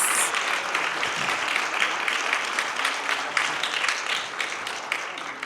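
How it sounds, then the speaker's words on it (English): Breakfast-event audience applauding panelists, a continuous crackling wash of many hands clapping at a steady moderate level for several seconds. "Can I get another round of applause for our panelists?"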